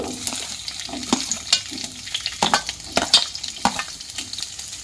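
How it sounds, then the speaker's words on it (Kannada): Chopped onions frying in oil in a pan for a North Karnataka brinjal curry, soft sizzling under repeated sharp stirring scrapes and clinks of a spoon against the pan. "ಬಾಣಲಿಗೆ ಸ್ವಲ್ಪ ಎಣ್ಣೆ ಹಾಕೋತಾ ಇದ್ದೀನಿ ಅದಕ್ಕೆ ಹೆಚ್ಚಿಟ್ಟಿರೋ ಈರುಳ್ಳಿ"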